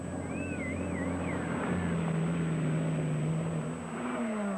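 A Lancia Stratos rally car drives a stage at the 1978 British rally championship, its engine droning steadily at a distance, with pitch shifts as it accelerates and a faint whine over a constant background hum.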